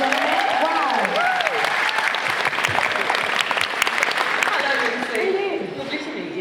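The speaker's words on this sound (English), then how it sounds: "We get a round of applause for this amazing cosplay," An audience applauds a cosplayer in a loud, continuous wave of clapping and cheering, with voices and whoops mixed in, fading slightly toward the end.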